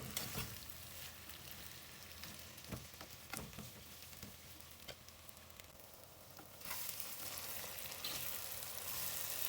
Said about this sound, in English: keep stirring and cooking the onions till it becomes slightly golden